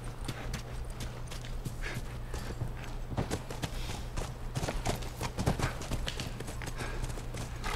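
Horse hooves clip-clop steadily in The Last of Us Remastered on PS4 Pro, with a constant low hum underneath and brief sharper clatters throughout.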